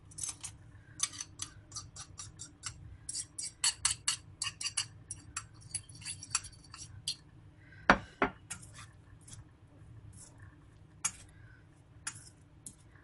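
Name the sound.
mixing spices and pepper into chicken in a bowl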